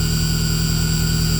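A truck engine idles steadily and loudly while charging its batteries, producing a constant low hum with strong tonal drones and no change in revs.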